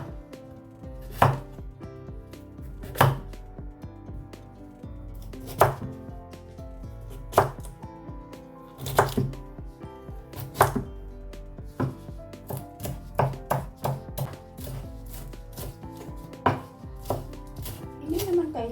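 A knife chops carrots for a chicken macaroni salad, with sharp, close strikes on a board coming in uneven bursts, first spaced out, then quicker toward the end.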